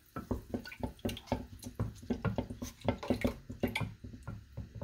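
Distilled water poured into a shampoo base of aloe vera juice, giving a run of close, wet dripping and splashing pulses of liquid with no talk.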